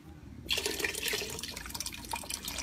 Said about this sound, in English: Then also what I'm going to do is add the seafood stock.